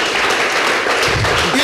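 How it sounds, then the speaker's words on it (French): An audience applauding in a church, a dense continuous wash of clapping, loud and steady, with voices faintly mixed in. "Ça mérite des applaudissements quand même ça."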